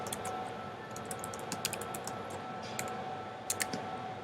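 Computer keyboard typing to enter an email address, quiet, quick irregular key clicks at close range over a faint steady background hum.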